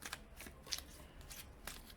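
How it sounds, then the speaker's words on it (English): A deck of cards riffle-shuffled once, a quick fluttering burst of papery flicks up close, with no voices. "one shuffle."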